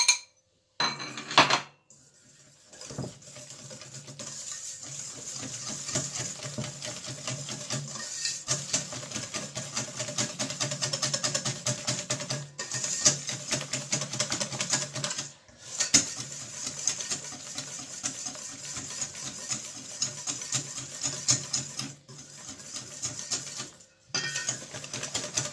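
Egg yolks and icing sugar are whisked in a bowl, giving a continuous busy clatter of metal clinking and scraping with a few brief pauses.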